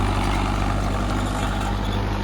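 An Arjun 605 tractor engine runs steadily with a 10-foot rotavator attached, a continuous low, rumbling drone held at an even level from start to finish, with no voices.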